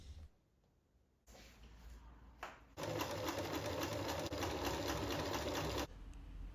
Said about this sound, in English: the vertical white stripe is sewn on